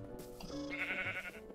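A Minecraft sheep bleats loudly and close in a single drawn-out, wavering call, alone with no talk over it.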